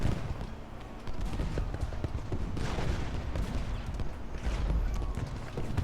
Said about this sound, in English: he's opening fire right there on Harrow